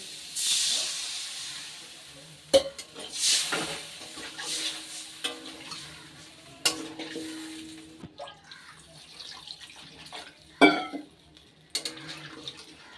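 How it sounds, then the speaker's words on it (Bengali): Water poured into a pan of hog plums fried in oil for a Bengali chutney, giving a broad hissing splash and steamy sizzle with scattered clinks and stirring knocks, fairly close and moderately loud, no talking. "এবার এর মধ্যে দিয়ে দেবো পরিমাণ মতন জল।"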